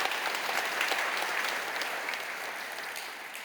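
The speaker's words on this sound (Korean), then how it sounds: "여러분 그의 박수로 환영하시지요?" Church congregation applauding to welcome a new ministry worker, dense steady clapping from a full room that holds evenly and fades slightly toward the end, with no voices on top.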